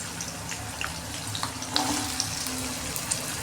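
Cut pumpkin and potato frying in a pan, a faint steady sizzle with a few light pops and clicks scattered through it.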